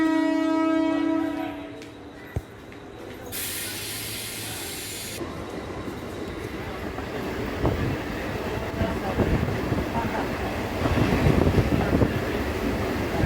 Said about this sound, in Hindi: मुंबई की जान कहे जाने वाली मुंबई लोकल ट्रेन एक बार फिर से पटरी पर दौड़ पड़ी।